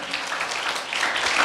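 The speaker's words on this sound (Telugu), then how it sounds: "కొట్టు చప్పట్ల గట్టిగా" A church congregation claps loudly and steadily at a revival meeting, a dense continuous patter of many hands filling the space without pause.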